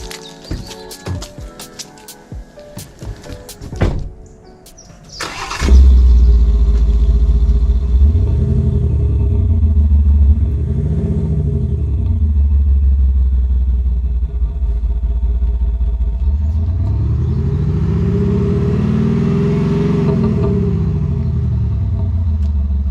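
A Land Rover Defender with an upgraded exhaust starts with a crank and settles into a deep, loud idle, then revs up and down several times in rising and falling sweeps, the last a longer, higher blip.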